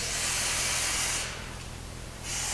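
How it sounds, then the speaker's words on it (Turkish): A can of spray cleaner hisses during removal of a car wheel bearing, one long loud spray burst, a brief pause, then the hiss starts again, close by. "Şimdi balta spreyle biraz temizleyeceğim."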